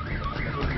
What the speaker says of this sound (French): Une alarme s'est déclenchée,